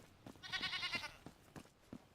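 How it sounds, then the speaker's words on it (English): A pet goat in a video game gives a single quavering bleat, faint and close, with soft footsteps or game noises tapping around it. "And I have a pet goat."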